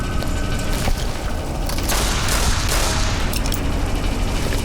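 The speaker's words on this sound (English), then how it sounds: "Wasn't expecting ceiling turrets." Automatic ceiling turrets fire in Fallout: New Vegas on PC, a dense, continuous roar of gunfire and booming blasts lasting throughout, loud and close with no talk over it.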